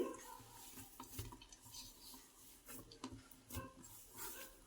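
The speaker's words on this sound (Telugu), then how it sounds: "ఇలాగా మనం పర్ఫెక్ట్గా కలుపుకోవాలండి" Ribbon pakoda dough being mixed by hand in a bowl, giving soft, irregular squishing and stirring sounds with a few light knocks against the vessel, close and fairly quiet with no talking.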